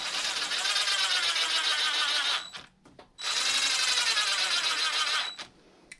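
A power tool drives screws into plastic parts of a Losi LMT RC monster truck: two steady whirring runs of about two seconds each, close and loud, with a short quiet break between and a quiet tail after.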